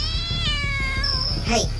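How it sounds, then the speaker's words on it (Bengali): Wild cat sound effect for a spooky forest story: a drawn-out, wavering meow that rises into a sharp caterwaul at the end, fairly close and loud. "হঠাৎ গাছ থেকে একটা বন বিড়াল লাভ দিয়ে আমাদের দিকে তেড়ে আসে"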